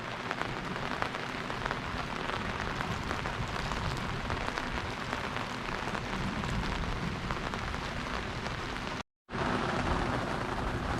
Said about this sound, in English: we've had some pretty serious electrical activity in the atmosphere over the last few minutes